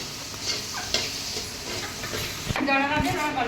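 Onions sizzle and crackle in hot oil with occasional stirring scrapes; a voice speaks briefly toward the end.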